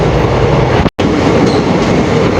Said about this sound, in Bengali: এখনও পুরো ট্রেনটা টানেলের ভিতরে